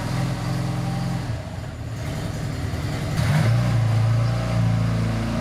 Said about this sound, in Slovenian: Andrej je malega Fiata vžgal